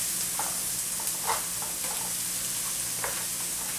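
Ginger goes into onions frying in a pan, a steady close sizzle with faint crackles and a few soft ticks of stirring.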